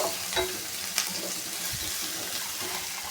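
Green chillies and onions fry in a pan with a close, continuous sizzle, broken by a few sharp stirring scrapes and taps.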